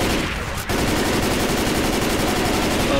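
Mounted machine gun in the Left 4 Dead 2 video game fires a dense, continuous burst of rapid shots, loud and close, with a brief gap near the start and no talk.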